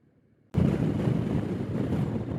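After a quiet second, a sudden loud roar of wind buffeting the microphone takes over and stays steady while riding a motorcycle on a windy road alongside semi trucks.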